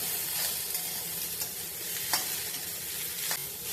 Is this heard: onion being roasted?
yes